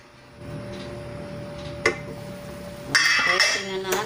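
A metal lid set back onto a cooking pot of pork nilaga with potatoes, a clink near the middle and a louder clatter of lid and pot toward the end, over a steady kitchen hum.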